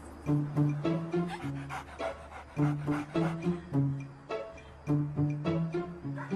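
Dogs panting in quick, rhythmic bursts close by, with whimpering, tonal yips woven through the steady breathing.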